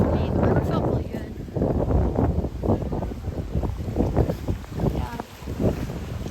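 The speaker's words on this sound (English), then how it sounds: "It's super windy." Strong, gusting wind roars across the microphone beside a river during a severe thunderstorm with 40 mph gusts, a loud continuous buffeting rush, and a brief voice speaks over it.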